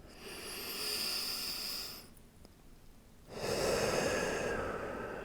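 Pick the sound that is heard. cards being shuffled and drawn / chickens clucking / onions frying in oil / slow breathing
slow breathing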